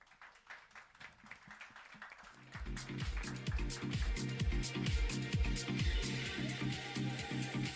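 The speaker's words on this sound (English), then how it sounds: "Let's have a round of applause, guys." An audience at the Bawaal trailer launch breaks into dense, steady applause that builds after a few scattered claps, under a pulsing beat of loud music.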